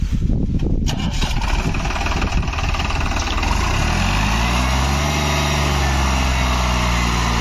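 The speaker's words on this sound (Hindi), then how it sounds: "अब ट्रैक्टर स्टार्ट होने लग रहा।" A New Holland tractor hauling a loaded trolley starts up into a loud, close diesel rumble that settles into a heavy, steady idle with a low, throbbing drone.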